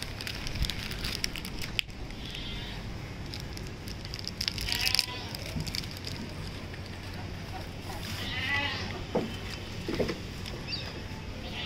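Gulabi goats at a livestock market let out a few short bleats, fairly faint against busy market noise and people talking.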